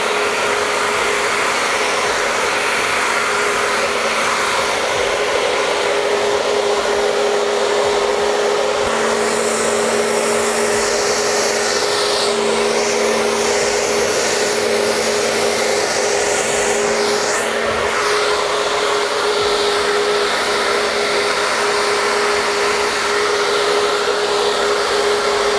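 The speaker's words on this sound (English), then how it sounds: "I'm just going to blow dry this under to help with the graduation." A hair dryer blows steadily and loudly on permed hair in a salon, a continuous whooshing drone with a faint tonal whine, shifting slightly as it moves.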